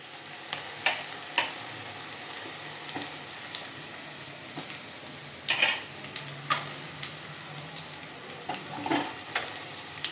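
Cashews frying with garam masala and black pepper in a pan for vegetable fried rice: a low, steady sizzle broken by sharp crackles and stirring clicks.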